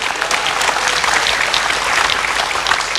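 Loud, sustained applause from an audience at a Jakarta event marking International Day of Persons with Disabilities, dense clapping filling the room steadily from start to finish with no talking.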